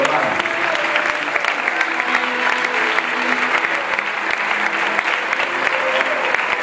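A church congregation applauds steadily during a sermon, a dense, sustained wash of clapping from many hands that stays loud throughout, with faint voices mixed in.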